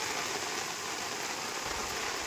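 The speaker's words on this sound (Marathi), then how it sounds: "हा बघा जोरदार मुसळधार पाऊस आला." Heavy monsoon downpour at a creek during prawn fishing: a dense, constant roar of rain close by, unbroken and with no voices.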